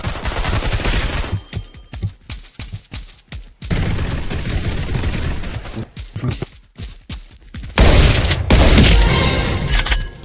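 Rapid gunfire in the video game Rivals: loud, dense bursts of automatic shots with short gaps between them, ending in a heavier, sustained volley.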